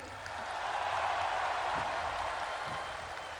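Applause from a large crowd at the Gerindra party anniversary celebration, a steady wash of clapping that holds at moderate level for a few seconds without any voices on top.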